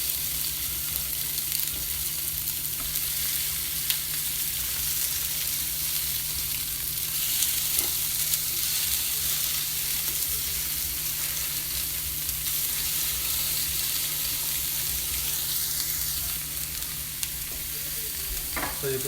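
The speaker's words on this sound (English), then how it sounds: "So the salmon's on the grill." Wild sockeye salmon fillets sizzle steadily on a grill, a continuous close frying hiss with faint crackles and a low hum beneath, no one talking.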